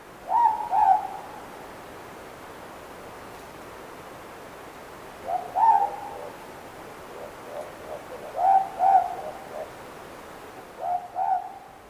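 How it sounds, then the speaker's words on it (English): A ruru, a morepork owl native to New Zealand, calls its two-note hoot four times at spaced intervals in a suburb, clear against a quiet night background with faint noise. "Ruru or mopoke are brownish owls native to New Zealand, and their call goes something like this."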